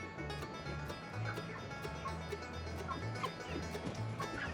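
Chickens cluck in a loose, irregular run of short calls over a steady low background hum, with one or two louder clucks standing out near the middle and end.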